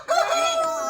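A rooster crows once among farm chickens, a loud, close, drawn-out call filling the brief moment on its own.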